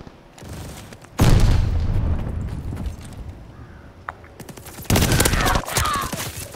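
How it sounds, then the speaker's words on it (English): Bursts of gunfire from a World War II style video game battle at Demyansk, loud volleys of rifle and machine gun shots with booming impacts, two dense bursts separated by quieter crackling fire. "He's shooting to the damn church."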